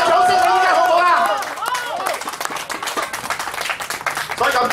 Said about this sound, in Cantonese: 俾個掌聲